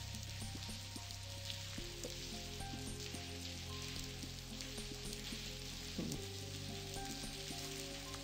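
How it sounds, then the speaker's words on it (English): Rain falls steadily in a video game scene, a soft hissing patter over a low droning hum and faint tonal ambience, with a brief louder rustle partway through and no voices. "I don't hear anything besides the rain."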